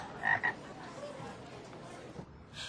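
A cartoon frog gives a couple of short croaks at the start over a steady background bed, fairly faint.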